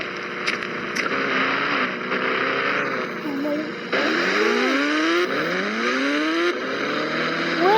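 Engine of a motorbike ridden in a video game, a steady synthetic drone whose pitch rises and sweeps upward repeatedly as the bike accelerates, loud and continuous with a voice talking over it.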